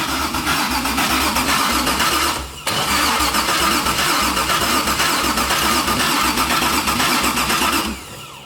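An LS V8 swapped into a Mazda Miata fires up and runs loud and close with a rough, pulsing rumble. It breaks off briefly for a moment, then roars back steadily before cutting out near the end.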